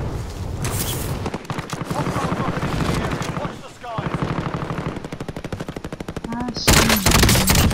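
Rapid automatic gunfire from Call of Duty: Modern Warfare, loud and dense with sustained bursts, occasional explosions and brief pauses, while someone speaks briefly over the shooting.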